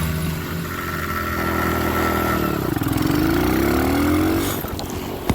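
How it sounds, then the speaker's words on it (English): Dual sport motorcycle engine runs close by, its pitch sweeping down and back up through a downshift and rising again, loud and steady with no talk. "You don't hear that downshift?"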